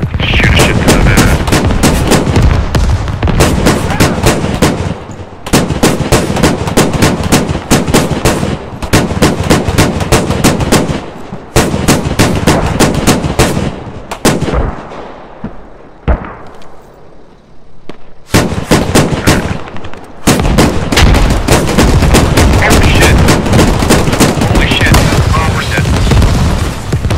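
Sustained video game gunfire blasts in dense, loud bursts that hammer on for several seconds at a time, broken by brief lulls and a quieter stretch near the middle.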